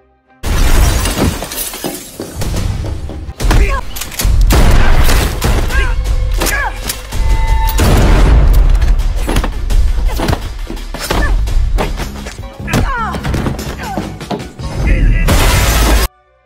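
Movie action scene with loud gunfire and shattering glass, heavy impacts and crashes in dense bursts over a music-heavy soundtrack.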